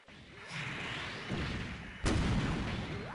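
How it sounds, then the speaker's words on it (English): Homing missiles, six or eight of them, launched by the 00-Raiser in the SDGO video game: a sustained rushing barrage of whooshing launches, then a sharp loud blast near the end that rolls on as steady rumbling fire. "I think it's six homing missiles, and it just does that."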